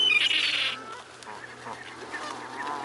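Waterfowl, including a duck, call with loud honking and quacking at a waterside bird area. A sharp burst comes near the start, followed by softer, scattered calls nearby.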